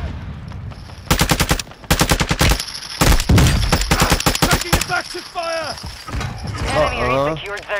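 Rapid, loud bursts of automatic gunfire from the video game Call of Duty: Modern Warfare II, several close volleys in quick succession, then players talking over quieter game sounds.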